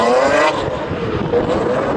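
A BMW drifting on a wet track at Lavrio in the rain, engine revving loudly and continuously with a sustained high whine, close and dominant throughout.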